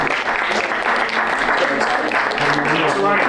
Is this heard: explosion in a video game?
no